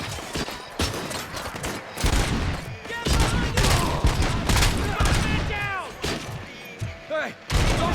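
Gunfire in RoboCop Rogue City, with heavy volleys of loud shots and thuds in irregular bursts mixed with shouting voices and game noise.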